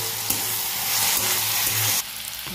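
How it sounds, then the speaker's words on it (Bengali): Bottle gourd pieces fry in oil with green chilli, turmeric and salt, giving a steady close sizzle that drops to a softer hiss near the end, with no voices. "আর ভালো করে ভেজে নেবো লাল লাল করে।"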